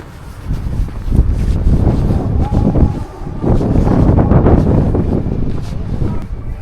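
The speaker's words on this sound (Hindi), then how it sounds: "और बहुत तेज़ हवा चल रही है, बहुत तेज़।" Strong wind buffets the microphone in loud, rumbling gusts outdoors in Murmansk, Russia, in the Arctic Circle, with a steady low roar that surges and dips throughout.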